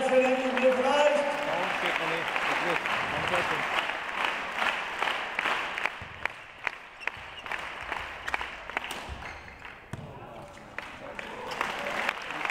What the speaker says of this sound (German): So, dann geht jetzt noch mal ein bisschen Applaus hier beim letzten Mal